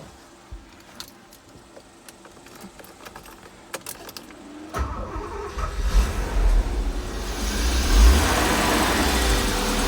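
A Porsche 928 engine cranks and starts about halfway through, then settles into a loud, steady running rumble with some revving, after a quieter stretch of faint jingling and clicks near the car.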